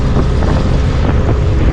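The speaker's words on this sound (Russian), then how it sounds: "Идем на малом ходу и волну стараемся держать с левого борта." Small boat moving at low speed through stormy waves, a loud continuous roar of water, hull motion and wind buffeting the microphone, with no voices.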